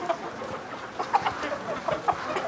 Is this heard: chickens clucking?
yes